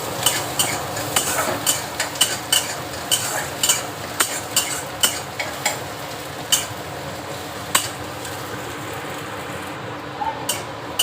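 Onions and chillies sizzle steadily in a pan with cumin seeds while a utensil scrapes and stirs in frequent, irregular clinks close by.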